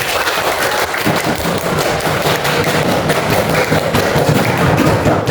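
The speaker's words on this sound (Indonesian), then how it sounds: "beri tepuk tangan untuk teman-teman" Fifth-grade pupils in a classroom clap for their classmates: loud, continuous, crowded applause with scattered thumps, sustained for over five seconds.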